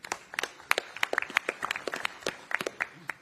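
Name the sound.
round of applause at a press conference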